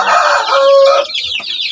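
Loud, close clucking and squawking from pet chickens at feeding time, with a rising crow-like call, busy and layered over a brief stretch.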